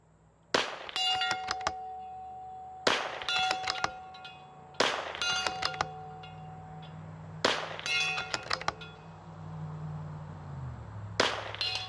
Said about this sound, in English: we're going to do the shooting target 7s, do like a speed run